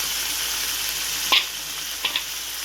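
Potatoes sizzle steadily in a hot pan with oil, a constant bright hiss broken by a couple of sharp clinks of a spoon or spatula against the pan.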